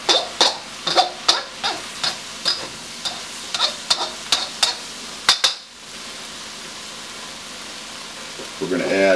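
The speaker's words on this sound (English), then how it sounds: "Stir fry that around a little bit." Szechuan beef stir-frying with soy sauce, a rapid run of sharp spatula clacks against the wok over a light sizzle, then the clatter stops, leaving a faint background hum.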